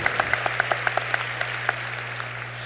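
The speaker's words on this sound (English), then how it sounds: "Let's give them a round of applause." Audience applause for the orchestra at a high school graduation ceremony, a steady crowd of clapping with several sharp, close individual claps, under a low electrical hum.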